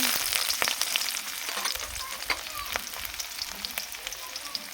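Chopped onions sizzle and crackle steadily in hot oil in a wok, with occasional sharp pops and stirring scrapes throughout; no talking.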